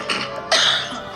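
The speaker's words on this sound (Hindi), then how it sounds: "ये जो आप इतना खांस रही हैं" A woman coughs twice, sharp and close, the second cough louder and raspier, with no talk over it.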